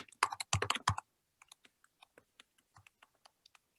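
Fingers type on a computer keyboard nearby: a quick, dense burst of keystrokes, then a slower trickle of scattered, lighter taps, with no talking.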